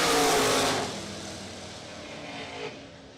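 A 1972 Chevrolet Vega drag car launches off the line in a wheel stand at a bracket racing event, its engine roaring loud and close for under a second before fading into a distant drone.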